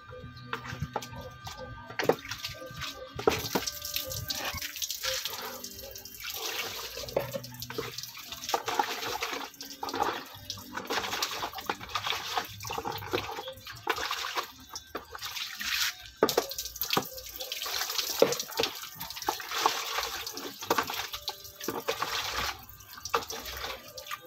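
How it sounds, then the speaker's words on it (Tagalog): Hands being washed with soap under a running tap in a home kitchen, with continuous splashing water and rubbing sounds, close and fairly loud. "matapos tayo maghugas ng ating kamay"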